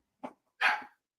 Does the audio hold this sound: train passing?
no